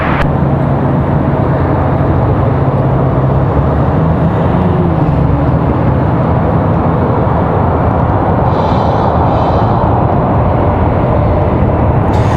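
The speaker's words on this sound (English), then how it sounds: "Got a Delta heading up the hill. That's what you guys are hearing right now. 737-900." A Delta Boeing 737-900 airliner climbs out after takeoff from Raleigh-Durham International. It makes a loud, steady, broadband jet roar with a deep low rumble that holds throughout.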